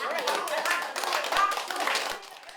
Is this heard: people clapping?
yes